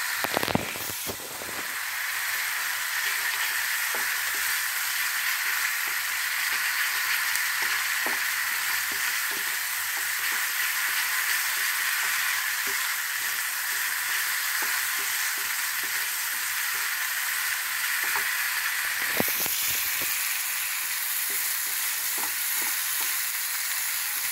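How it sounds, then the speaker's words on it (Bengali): A spice paste cooked in oil together with tomato water for a Bengali fish curry sizzles steadily and close up, with intermittent stirring scrapes and clicks throughout. "মশলাটা টমেটোর জল আছে তার সাথেই ভেজে নেবো"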